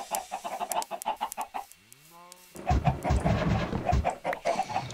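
Chickens clucking in a pony-themed city-building video game, a rapid run of clucks, a short rising cry, then busier overlapping clucking and scratching noise, close and fairly loud.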